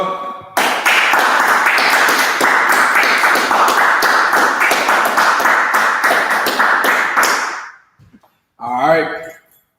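Audience clapping in a hall during a religious gathering: many hands slapping in a loud, dense burst for several seconds that stops abruptly, followed by a short spoken voice.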